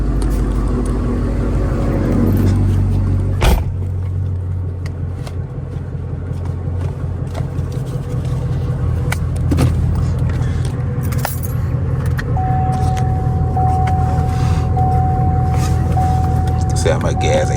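A straight-piped 2017 Chevrolet Camaro SS is driven at night. Its engine gives a steady, deep exhaust drone throughout, with keys jangling inside the cabin and voices now and then.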